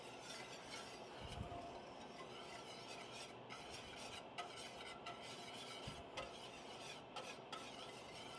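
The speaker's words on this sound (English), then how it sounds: "low and slow and whisking the whole time to make it stay this thick, luxurious sauce" Whisk stirring a thick, luxurious sauce in a pan over low heat, a soft steady scraping and rasping with faint clinks, quiet and continuous throughout.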